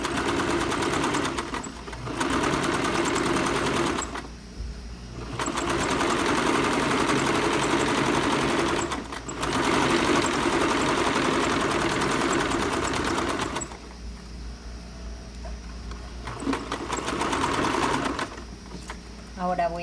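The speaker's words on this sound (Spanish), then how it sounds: "Y lo vamos a coser. Vamos a ir cosiendo por ahí." A sewing machine stitching a shirt collar, its loud steady motor whir running in long bursts that pause briefly between, with someone talking quietly underneath.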